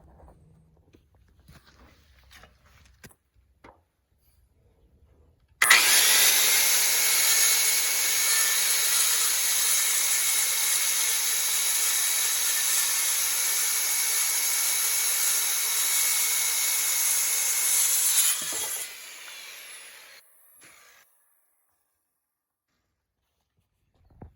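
A wood board is cut on a makeshift sawhorse while air prune beds for trees are being assembled. A steady, loud, continuous cutting whine runs for about thirteen seconds and then stops, with light handling noises before and after.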